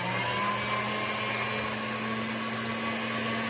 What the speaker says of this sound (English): Run this through my pasta machine